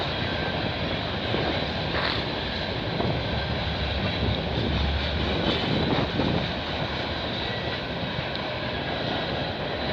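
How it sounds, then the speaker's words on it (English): A CN or CP freight train rolls past in Milton, Ontario, a loud, continuous broadband rumble and roar holding steady at close range for the whole stretch, with no voices over it. "My favorite train that's from Burlington."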